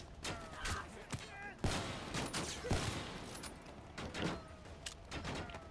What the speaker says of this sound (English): So you're trying to shoot us